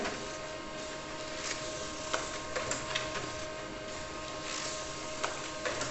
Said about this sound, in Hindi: प्रिंटिंग शुरू हो चुका है और एक एक प्रिंट देखिए कितनी तेजी से निकल रहा है